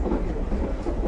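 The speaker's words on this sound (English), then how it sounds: "This is one of the fastest stretches for the train ride." Lehigh Gorge Scenic Railway train on a fast stretch, heard from inside the caboose as a steady low rumble of wheels on rails with faint rhythmic clatter.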